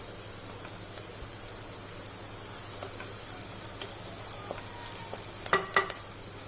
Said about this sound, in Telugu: ఈ ఆనియన్ని కొంచెం ఎర్రగా ఫ్రై చేసుకుందాం